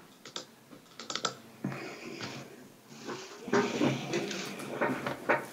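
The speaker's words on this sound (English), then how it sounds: "Hey, Keith, I can hear you clicking." Computer keyboard typing picked up over a planning commission call, with bursts of clicky keystrokes and irregular pauses, close and moderately loud, with some room noise.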